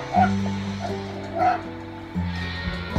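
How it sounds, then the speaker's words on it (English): Recorded dog barks and yips played back, a few sharp bursts spaced apart over a steady low hum, like sound from a speaker. "I'm just gonna be putting some dog barking on."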